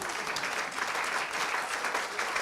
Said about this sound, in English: Harriet, big round of applause.